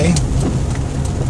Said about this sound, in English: Of course, it's been raining all day, started last night.